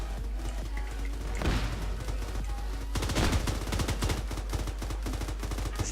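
Gunfire in the military shooter game Arma 3, dense bursts of automatic and rapid shots with crashing impacts, loud and continuous, swelling into a heavier fusillade midway.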